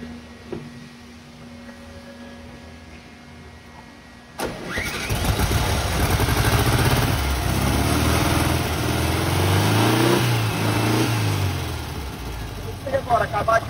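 A Volkswagen Beetle (Fusca), parked for a long time, is cranked after a faint hum until the air-cooled engine catches with a loud jump and settles into a rough, steady idle close by, revving near the end.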